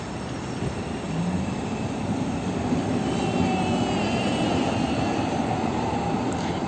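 A tram rumbles past nearby with a steady low roar and faint squealing wheels, the noise holding level throughout.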